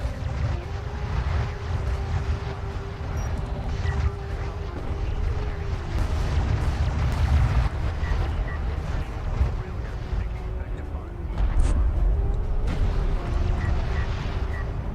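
Heavy rumbling booms and blasts roll under a droning engine hum as a carrier takes damage in a Homeworld: Deserts of Kharak battle, a dense continuous low roar with scattered sharper impacts.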